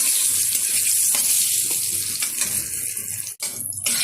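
Brinjal pieces with turmeric sizzle steadily in hot oil as they are stirred in a pan, a continuous close hiss with faint scraping, no voices.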